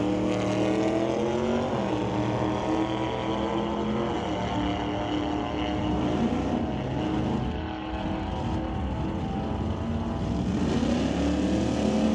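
A 1977 Mustang and a 1969 Dodge Dart drag race at a drag strip, their engines roaring loud and sustained with rising, shifting revs and a brief dip before the roar swells again.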